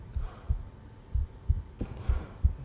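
Heartbeat sound effect in the horror video game Uninvited Guest, a steady low thumping pulse of about seven beats, close and muffled, playing alone.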